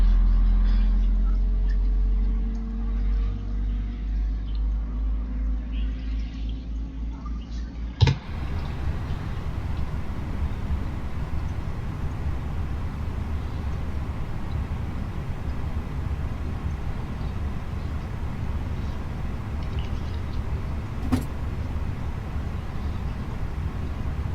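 A steady, low jet engine drone hums continuously, with a sharp click early on and another faint click later.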